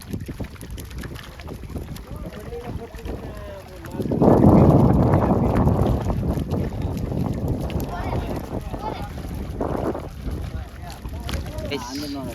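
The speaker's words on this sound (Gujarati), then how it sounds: "થોડો વધારે પવન ગાય છે" Strong wind roars against the microphone in heavy gusts, with a louder buffeting burst partway through and people talking faintly underneath.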